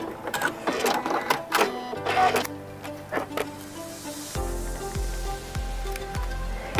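A sewing machine stitches with white thread, the same thread wound on the bobbin as in the needle, producing several short bursts of rapid mechanical chatter and hum, fairly close and moderately loud.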